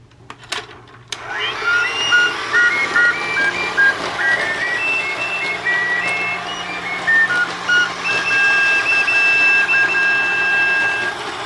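A Thomas toy plays its theme music as a thin, electronic beeping melody over a steady mechanical whir, with a clunk at the start as it switches on; close and moderately loud, no talking.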